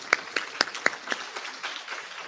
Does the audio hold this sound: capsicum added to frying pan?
no